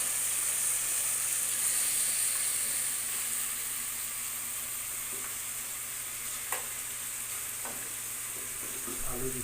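Meat goes into a pan of spices being fried for a home-cooked lunch, giving a steady, loud broadband sizzle with faint scrapes of stirring toward the end and no talking.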